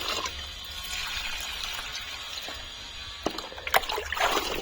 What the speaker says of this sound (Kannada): ಗಿಡಕ್ಕೆಲ್ಲ ನೀರು ಹಾಕ್ತಾ ಇದ್ದೀನಿ